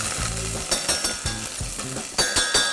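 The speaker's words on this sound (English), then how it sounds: "Black mustard seeds in. They're going to crackle." Black mustard seeds and curry leaves sizzle and crackle in hot oil in a deep pan, a loud steady frying hiss broken by sharp pops and stirring clinks.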